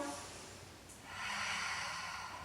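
A person breathes deeply during an intermediate Pilates exercise without equipment, a soft close exhale followed by a louder, longer breathy rush of air, with no talk.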